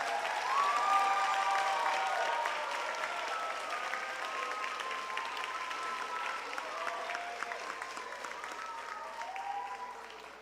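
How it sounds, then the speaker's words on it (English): Sustained applause from a large audience at a high school graduation ceremony honoring the graduates: dense, even clapping from many hands that fills the hall and slowly tapers near the end. "Let's give all our graduates another round of applause."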